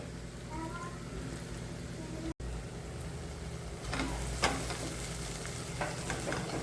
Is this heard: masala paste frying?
yes